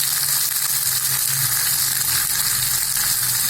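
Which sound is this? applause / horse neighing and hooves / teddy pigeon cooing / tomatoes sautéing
tomatoes sautéing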